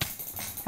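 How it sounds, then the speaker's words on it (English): A wolf in a survival video game gives a single short, sharp bark or yelp, fairly loud and close, over a busy game background with a brief spoken exclamation. "There's a wolf."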